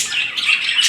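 A budgie calling, close and loud, a continuous run of high chirpy squawks and tweets with no talking.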